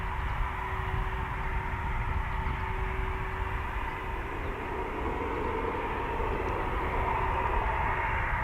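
Eurofighter Typhoon jet from 3 Squadron at RAF Coningsby, heard as a steady, broad roar that holds evenly and moderately loud from start to finish, with no talk over it.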